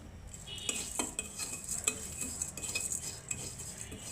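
Dried shrimp balachao lightly fried in a pan: soft sizzling under repeated clinks and scrapes of a metal spoon stirring against the pan, close and quiet, no talk.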